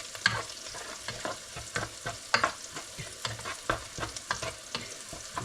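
Onions frying in a pan sizzle and crackle close by, with repeated sharp stirring scrapes over a steady hiss and no voices.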